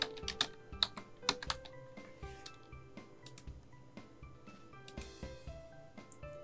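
Soft keystrokes on a computer keyboard as a search term is entered, a quiet irregular run of clicks with a few sharper taps and no talking.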